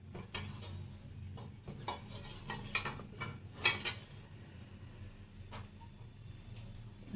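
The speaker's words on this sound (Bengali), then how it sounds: "তেলটা নিয়ে কড়াই চারধারে ঘুরিয়ে নেব" Oil swirled around a hot kadai for a homemade egg curry, giving light metallic scrapes and clinks of the pan close by, scattered and uneven, with no talk.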